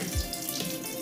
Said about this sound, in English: we're going to take cool water and pour it over the top